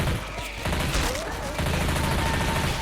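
Rapid bursts of automatic gunfire from a bot in the shooter game Left 4 Dead 2, crackling and fairly loud, repeating in quick volleys with short gaps.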